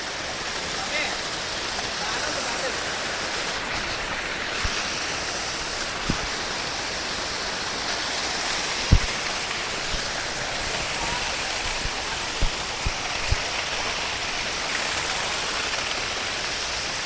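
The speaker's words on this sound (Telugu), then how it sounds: "ఇలా పైనుంచి కిందికి వెళ్ళిపోతున్నాయి వాటర్ అంతా" Steady broadband rush of falling water, continuous and fairly loud, with a few faint knocks and clicks scattered through it.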